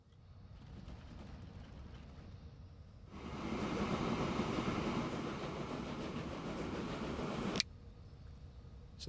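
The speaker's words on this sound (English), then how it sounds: "So this is an old train with 6 cars on it." An old six-car train in the video game Transport Fever 2 rolls along with a steady low rumble that swells louder midway, then cuts off abruptly near the end, with no talking.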